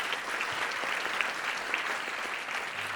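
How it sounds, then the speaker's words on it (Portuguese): A church congregation in Lisbon claps together in steady, even applause that carries on for the whole moment, moderately loud in a large room. "Vamos dar uma salva de palmas ao Alto Monte, que nos guiou em adoração hoje tão bem."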